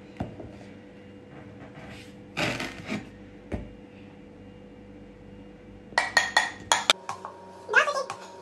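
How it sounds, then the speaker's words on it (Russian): A spoon stirring a cocoa and butter mixture in a mug, giving a few scattered clinks and scrapes, then a quick run of sharper taps near the end, close and fairly quiet. "А теперь перемешиваем"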